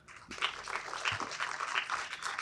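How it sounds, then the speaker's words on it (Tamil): A gathered audience at a film event breaks into applause to welcome a film director. The clapping is soft and distant, with a dense patter of many hands rising after a brief pause. "ஒரு சின்ன கரகோஷத்தோடு வரவேற்றுக் கொள்ளலாம்"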